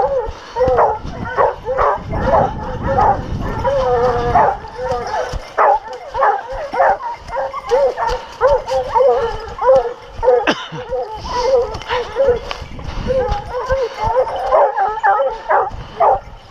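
Several hunting dogs yip, bark and whine excitedly and almost nonstop, close by, during a wild boar hunt near Camon, with a person speaking at times underneath.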